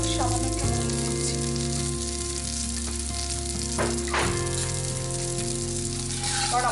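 Oil sizzles and spatters steadily in a cast iron skillet, a close, even hiss with a low steady hum beneath it and no voices.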